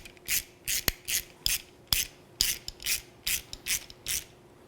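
Ratcheting and metallic rubbing bursts from a 13 mm wrench and 5 mm Allen key tightening a lock nut on highway pegs fitted to a 2020-up RT series motorcycle, about a dozen short close strokes with sharp clicks between, no talk.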